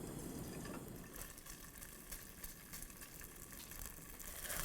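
Chicken broth pours in a steady, unbroken gush into a frying pan already holding olive oil and tomato paste, with no voices.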